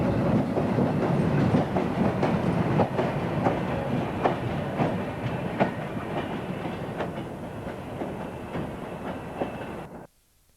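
A train of empty coal wagons runs slowly along the Harworth branch line with steady rumbling and repeated rhythmic wheel clicks over rail joints, gradually fading before cutting off.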